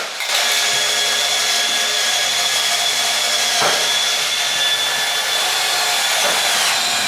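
A cordless drill/driver whirs steadily at high speed while it drives a 1.5 self-tapping screw in an installation test. The motor whine is loud and close, and it dips briefly under load partway through.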